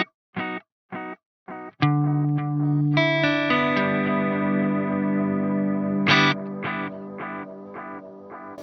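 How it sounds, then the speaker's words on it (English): Electric guitar played through an El Capistan tape delay pedal without spring reverb: a few clipped plucked notes, then sustained, slightly distorted chords with repeating echoes and wavering tape flutter, heard alone. "My other pedal that I've got on nearly almost all the time will be the El Capistan"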